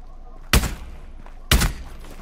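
Two sharp, loud gunshots about a second apart, each with a short booming tail, fired in the tactical shooter game Rainbow Six Siege against a thermite breaching charge.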